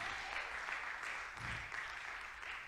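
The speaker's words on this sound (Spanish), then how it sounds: "Denle fuerte aplauso al Señor" A church congregation applauds during a service, a steady wash of clapping at low, distant level throughout.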